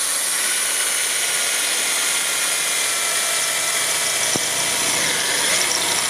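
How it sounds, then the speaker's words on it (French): A power drill bores the first hole for a riveted sliding door bolt, giving a continuous high whirring grind that holds steady and loud throughout. "Nous allons tout simplement percer le premier trou sur le traçage que nous avons fait tout à l'heure."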